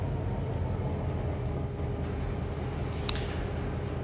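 An SD70 diesel locomotive running in the Trainz 06 train simulator game, a steady low engine drone and rolling rumble throughout with a faint high tick near the end, no talking.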